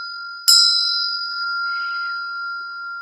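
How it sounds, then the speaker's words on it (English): A bell chimed once during an energy-healing session, a clear bright strike ringing out with a long sustained tone that slowly fades, alone over a faint steady hum. "I'm just going to chime a bell to lock that in."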